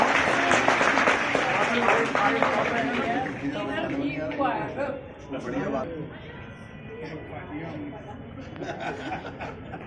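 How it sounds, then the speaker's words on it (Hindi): An audience at a district-level science prize ceremony at a girls' inter college claps loudly at first, then the applause thins into scattered claps under chatter and talking voices. "जोर से तालियां बेटा"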